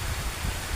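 Heavy rain pours during a typhoon, a dense, continuous roar of water close by with no pauses and no voices.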